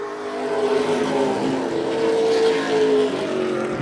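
Race cars roaring past during a lap of the Boss Hogg 150, a steady loud engine drone with rising and falling pitch as the pack sweeps by, no talk over it.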